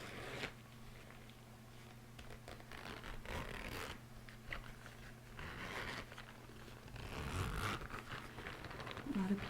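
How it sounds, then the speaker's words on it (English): Brief scratchy rasps of a zipper on a zippered pencil bag, soft and close, mixed with light handling rustles and a faint background hum. "a zippered bag."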